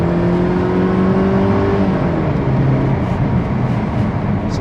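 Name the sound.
Mercedes SLK 200 engine accelerating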